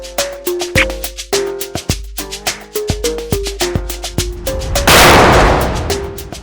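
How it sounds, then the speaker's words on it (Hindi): A gunshot in a CID Hindi TV crime drama: one loud, broadband blast with a decaying tail bursts in partway through, amid punchy, rhythmic dramatic music stabs that play before and after it. "गोली किसने चलाई?"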